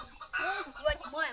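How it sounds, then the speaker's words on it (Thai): Chickens and ducks at a village roadside in rural Thailand cluck in a short, uneven burst of several calls, close and moderately loud. "เป็ดไก่กินอยู่นี่สบาย"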